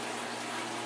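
Water splashes in a hydroponics waterfall system, giving a steady, close, rushing wash of sound with no pauses.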